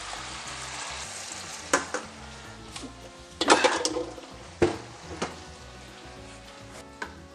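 Olive oil and garlic sizzle steadily in a frying pan for spaghetti aglio e olio, crackling throughout with a few sharper spatters and clinks standing out from the hiss.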